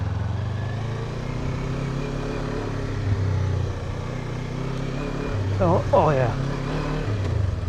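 A Kawasaki KLE 500 motorcycle rolls slowly along a dirt trail, its engine a steady low drone throughout, with a man's brief exclamation near the end.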